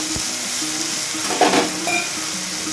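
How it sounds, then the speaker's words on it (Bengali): Half-boiled potatoes frying in a pan for a poppy-seed curry give a steady, close sizzle, with a brief louder hiss around midway as a little water goes in. "এবারে তো অল্প পরিমাণে জল দেবো, আলুটা বেশি গলে না যায়।"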